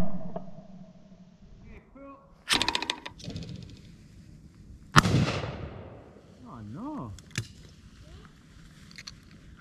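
Sharp shotgun blasts fired at clay pigeons outdoors, two loud cracks with a pause between them, followed by chatter and a whistling sound.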